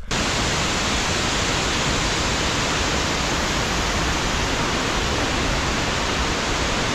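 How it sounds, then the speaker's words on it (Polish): The waterfall in Barranco del Infierno gorge in Adeje, Tenerife, roars as a loud, steady broadband rush of falling water, continuous and close throughout with no voices. "Tu już jest mokro, bo dużo wody z tego wodospadu zostaje rozpylona w powietrzu"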